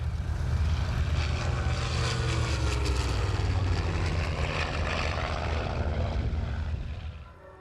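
A Yakovlev Yak propeller airplane drones overhead with a steady, throbbing engine roar that fades slightly at the end.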